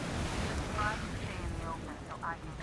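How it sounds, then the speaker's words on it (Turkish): Wind rushes steadily through a scene in the video game Metro Last Light Redux, a loud continuous gusting roar with a voice talking over it. "Ne rüzgar esiyor lan?"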